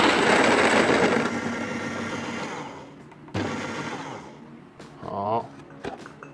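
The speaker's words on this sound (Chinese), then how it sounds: "先研磨15克的咖啡豆，看一下这个磨豆机它有没有这种吃粉的情况" A Watchget electric coffee grinder set near 4 grinds 15 grams of coffee beans: a loud, close whirring burst that tapers off after about three seconds, followed by a few clicks and a brief voice.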